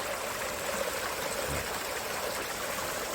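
A small stream flowing past a small dam, a steady, dense rush of water heard close and continuously, with no voices over it.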